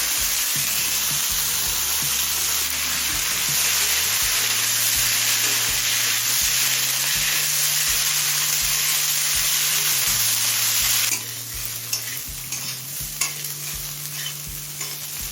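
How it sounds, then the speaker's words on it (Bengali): Potato, cauliflower and carrot fry in oil with cumin, giving a loud steady sizzle with stirring scrapes in the pan that drops off sharply near the end, soft music playing underneath. "আলু, গাজর, ফুলকপিটা 3-4 মিনিট ভেজে নিয়েছি।"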